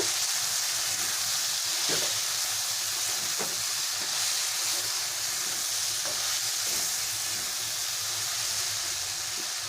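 Taro stolons fry in a pan with cumin and coriander powder, giving a constant loud sizzle and hiss, with a spoon scraping through the mix in a few separate strokes spaced about every second or two.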